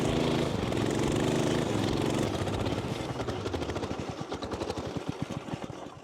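A racing lawnmower's small engine driven around a field, first a steady loud drone, then shifting into choppy, pulsing bursts as the revs fluctuate and the wheels spin for grip.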